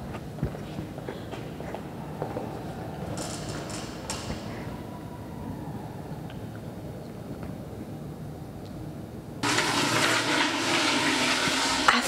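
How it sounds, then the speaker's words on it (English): A toilet flushes in a bathroom, a sudden loud rush of water breaking in after a stretch of quiet room tone and carrying on steadily to the end. "I just flushed the toilet and interrupted the flute player"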